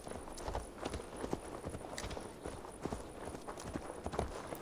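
Horse hooves clip-clop in Assassin's Creed Valhalla, a quick, uneven walking rhythm of close, crisp hoof strikes repeating throughout, with no talk over them.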